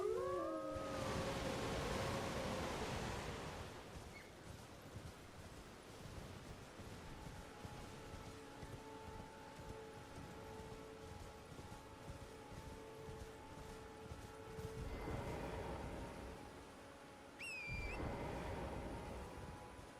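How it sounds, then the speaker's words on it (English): Wind blows in Elden Ring as a faint, steady whooshing rush with soft swells, stronger gusts at the start and near the end, and occasional thin tonal whistles over the airy hiss. "It's still windy."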